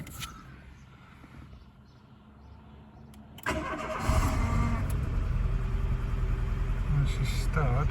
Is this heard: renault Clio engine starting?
yes